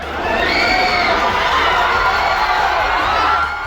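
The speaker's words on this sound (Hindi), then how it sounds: "अपने चहेते सुपरस्टार की एक झलक पाने के लिए एयरपोर्ट के बाहर फैंस की भारी भीड़ जुटी हुई थी" A large crowd of fans outside an airport cheers and shouts in a loud, sustained roar, high excited voices rising and falling together without a break.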